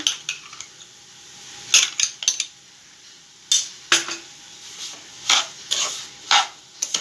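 Moong dal barfi mixture with sugar being stirred in a pan, repeated scraping and clinking of a metal spoon against the pan in irregular bursts over a faint sizzle, close and clear with no talking.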